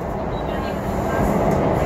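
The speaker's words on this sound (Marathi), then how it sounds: "ट्रेन सहज 90-95ची स्पीड घेत असेल मला तर वाटतं," A Pune Metro train running at high speed, heard from inside the carriage as a loud, steady roar and rumble that holds for the whole stretch without letup.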